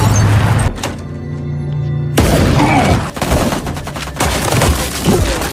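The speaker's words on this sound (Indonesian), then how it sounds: "Mendengar terjadi baku tembak di peternakan Sean" Gunfire in a film gunfight, with loud close shots and rapid bursts after a short low rumbling pause, cracking in quick irregular volleys.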